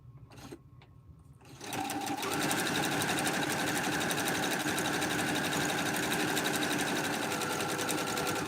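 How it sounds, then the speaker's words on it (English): A sewing machine runs a number 4 zigzag stitch along a pillow, a few soft clicks and then a steady, loud mechanical whir that holds close up for several seconds with no talking. "Now I have to put it on my number 4 zigzag."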